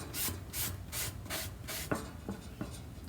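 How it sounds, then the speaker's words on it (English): Hand sanding a wooden craft sign produces steady back-and-forth rubbing strokes, about five even passes followed by a few lighter scrapes, close and moderately loud with no talking. "I'm sanding just around this"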